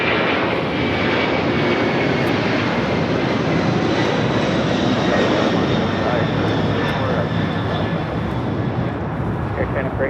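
A large airliner landing at Los Angeles International Airport, a loud, steady engine roar sustained throughout with a broad rushing tone, close and continuous, with no talk over it.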